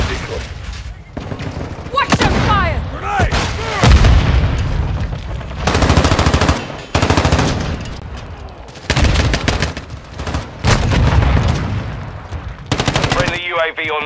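Rapid bursts of automatic gunfire and explosions in Call of Duty MW2 gameplay, loud and dense with brief pauses between volleys, shouted voice callouts mixed in.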